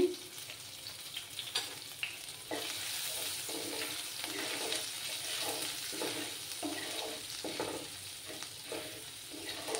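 Grated ginger fries in hot oil in a pan, giving a steady close sizzle with soft intermittent stirring scrapes throughout.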